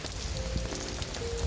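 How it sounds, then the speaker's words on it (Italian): Heavy rain falls outdoors on a rainy day in Prague, a dense, continuous patter of drops striking surfaces close by with no pauses. "e continua a piovere. C'è il diluvio universale in questo momento."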